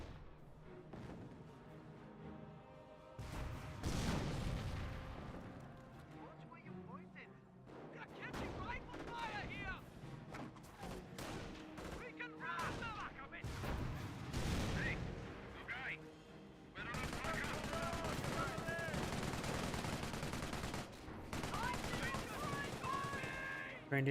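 Gunfire, machine-gun bursts and artillery blasts in the Company of Heroes war strategy video game, dense and continuous at moderate loudness, with no talking.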